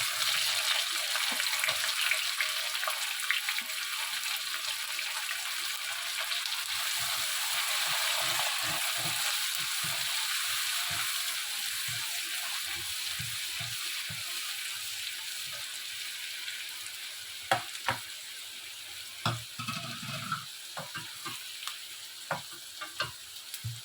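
Chopped onions fry in hot oil with a loud, steady hiss that eases over time, followed by several scattered scraping stirs against the pan toward the end.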